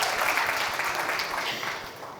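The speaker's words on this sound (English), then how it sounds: "I think we can have a slightly louder round of applause, ladies and gentlemen" An audience at a press conference for a streaming drama series gives a round of applause, a steady wash of many hands clapping throughout, moderately loud and slowly fading toward the end, with no voices over it.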